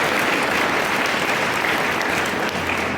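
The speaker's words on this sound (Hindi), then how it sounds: "हम ईश्वर के लिए ताली बजाएंगे जोर से" Loud, sustained clapping from a congregation at a charismatic healing prayer service at Oradih parish in Jashpur, dense and continuous applause filling the space for a few seconds.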